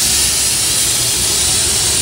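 Steady, loud hiss of steam escaping a pressure cooker on the stove while a curry with chilli, turmeric and spices cooks, continuous broadband rush with no break and no voices.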